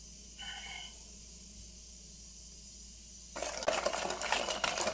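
CMC powder is whisked into a chocolate ice cream mix in a pot. After a quiet stretch with a couple of faint clinks, steady, close scraping and stirring starts and runs to the end.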